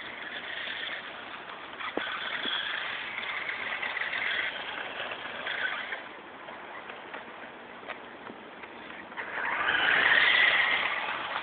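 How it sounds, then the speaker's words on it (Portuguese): A car passing by outdoors on a street, a soft steady rush that swells louder near the end as it goes past, with no talking. "Lá passa carro."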